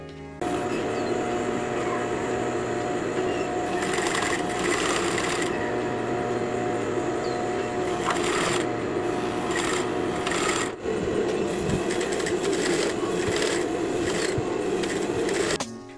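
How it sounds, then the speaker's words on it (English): A sewing machine stitches horsehair braid onto the edge of a wedding veil. Its rapid, steady mechanical whir runs loud and close almost the whole time, with a few brief pauses and changes in speed and no speech. "After pinning, we're now ready to sew it down."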